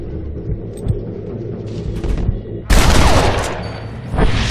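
Gunfire in the Western video game Red Dead Redemption, a loud sustained volley of shots that erupts suddenly over low rumbling background noise and keeps going with sharp cracks layered on one another.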